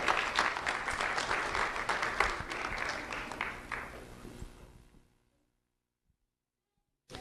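Audience applause for a student being honored at a community recognition event, a steady burst of clapping from a crowd that fades out after about five seconds into silence.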